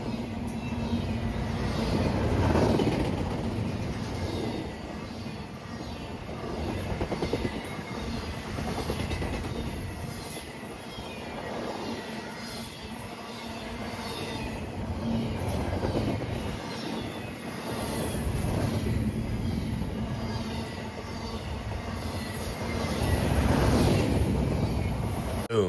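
A freight train rolls past at Berea, Ohio, with a continuous rumbling roar and steady rail clatter that swells and eases over about half a minute, mixed with wind buffeting the microphone and no talking.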